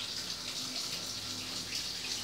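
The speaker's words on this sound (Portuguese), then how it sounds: "Jogo um pouco de água fria." Cold water runs steadily from a kitchen tap onto blanched cabbage leaves, a constant soft hiss and splash with no one speaking.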